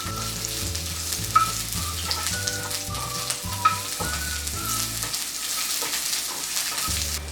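Garlic and ginger frying in oil in a pan for sausage choila, a steady sizzle running throughout, with a repeating tonal pattern also present in the background.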